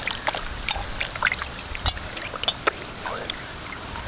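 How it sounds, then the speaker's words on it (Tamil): Water is poured over washed peanuts for groundnut chutney, giving soft, scattered close trickles and small splashes against a quiet background. "வந்து இந்த கடலை கழுவி கொஞ்சம் தண்ணி சேர்த்துக்கலாங்க."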